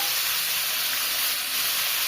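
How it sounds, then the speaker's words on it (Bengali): Onion and garlic frying in a pan: a loud, continuous close sizzle and hiss with no talk over it. "আমি পেঁয়াজ আর রসুন এদিকে এটা ভেজে নিচ্ছে"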